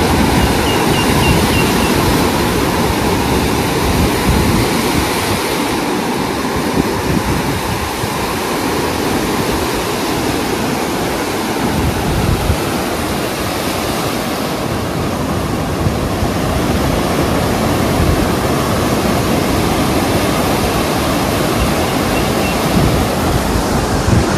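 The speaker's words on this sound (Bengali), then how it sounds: "উথালি পাথালি সমুদ্র।" Rough, high-tide sea waves surge onto a beach at Mandarmani, a loud continuous broadband roar of surf that swells and eases throughout with no voices.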